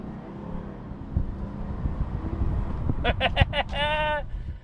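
A VW Touareg R50 with a V10 diesel pulling away hard from a standstill, heard from inside as a low, rising engine drone under wind rumble, with a few sharp tonal bursts near the end.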